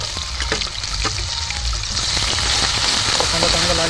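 Cumin seeds, ginger and garlic paste fry in hot oil in a pan for a village-style chicken curry. The sizzle is loud, close and continuous, with faint crackles throughout.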